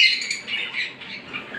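A breeding pair of pet birds gives a brief burst of squawky, high chirping calls at close range, fairly loud and unaccompanied by talk.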